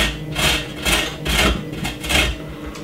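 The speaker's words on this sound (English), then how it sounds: "Let's grate this thing." A fat chunk of fresh ginger rubbed against a grater in four steady, evenly spaced rasping strokes, close and fairly loud with no talking.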